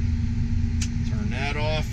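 A Versatile 335 MFWD tractor idles with the PTO engaged, a steady low diesel drone close by, while someone talks over it.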